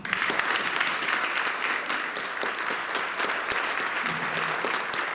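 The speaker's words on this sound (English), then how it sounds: "Please join me in a hearty round of applause for a creative force of nature, Jim McCulloch" Sustained audience applause fills the hall at an arts hall of fame induction ceremony, a dense, steady wash of many hands clapping at even loudness throughout, with no speech over it.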